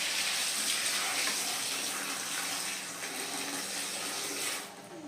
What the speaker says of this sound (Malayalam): അപ്പോൾ ഇതിലേക്ക് ഞാൻ വെള്ളം ഒഴിക്കുന്നുണ്ട്.